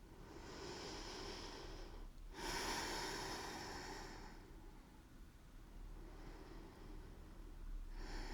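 Slow, deep breathing during a mobility stretch for pistol squat prep: long, airy inhales and exhales close to the mic, one clear pause between breaths, steady and unhurried with no talking.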